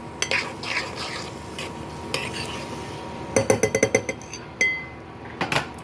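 A spatula scrapes and clinks against a kadhai while spiced vatan paste is stirred, with irregular metallic taps and a quick cluster of sharp clinks over a faint background.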